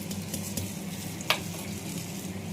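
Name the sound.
cauliflower and potato frying in oil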